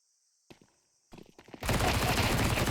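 Pistol gunfire in a Counter-Strike 2 match arrives as a few sparse footsteps and pops, then swells into a loud, continuous burst of rapid shots that runs to the end.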